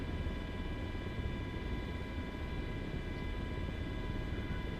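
A simulated Sikorsky MH-60 Black Hawk helicopter in flight gives a steady, dense rotor and turbine roar with a high whine, continuous and unchanging.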